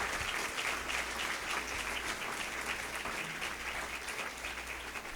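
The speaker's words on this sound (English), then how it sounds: "So let's thank them with a very loud round of applause." Sustained audience applause fills a room at a community shelter awards breakfast, steady and dense clapping from many hands throughout, with no voices rising above it.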